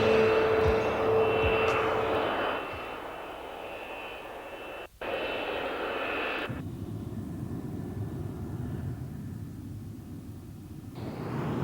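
Several McDonnell Douglas F-15 jet fighters on a NATO exercise, a loud, sustained engine roar and whine that drops briefly and then swells again as the aircraft pass.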